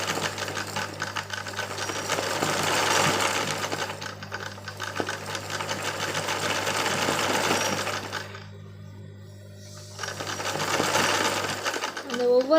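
A sewing machine stitching embroidery runs in long steady whirring bursts, pausing briefly partway through before starting again, with a constant low hum underneath and close, loud mechanical chatter.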